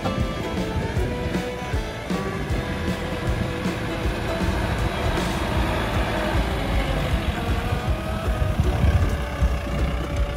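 A small jeep driving around a Louisiana crawfish farm, its engine a steady, rumbling drone mixed with wind and outdoor noise that runs unbroken through the whole stretch.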